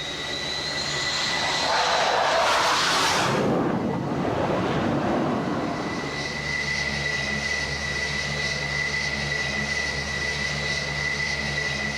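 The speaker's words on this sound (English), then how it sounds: "Another plane must be guided to the ship." An F-14 Tomcat jet approaches and sweeps past near an aircraft carrier, its engine roar swelling loud and close for a few seconds before fading into a steady turbine whine and hum at sea.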